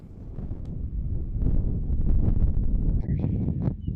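Strong wind at Chimney Rock and Scotts Bluff in Nebraska buffets the microphone in a constant low roar, gusting louder midway, with a faint high whistle near the end.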